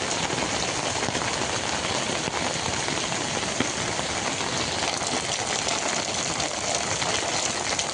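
Heavy monsoon rain pours steadily on a July evening over farmland, a dense, constant roar of falling water with no pauses, close and loud throughout.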